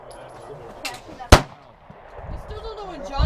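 A single sharp, loud gunshot cracks out at a shooting range, preceded by a fainter pop and followed by background movement and handling noise.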